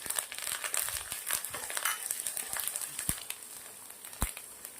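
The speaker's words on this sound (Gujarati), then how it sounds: "મરચું અને લીમડો નાખું છું।" Dried red chili pieces and curry leaves hit hot oil already browning peanuts and garlic for khichdi, giving a steady close crackle and sizzle with scattered sharp pops, no voices.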